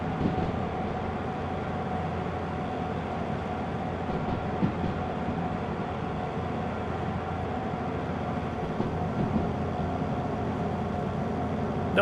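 A steam train rolls along in the Derail Valley game, a steady, even rail rumble with faint clicks that holds at constant loudness throughout, with no talking.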